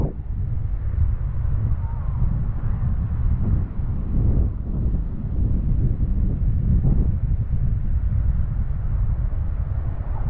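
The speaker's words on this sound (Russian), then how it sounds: "Ветер, слышите, какой порывистый идет. Юго-восточный." Gusty south-east wind buffets the microphone at a Black Sea beach in Anapa on a cold morning, a steady loud low rumble with surging gusts throughout.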